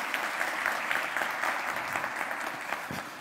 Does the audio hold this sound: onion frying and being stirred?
no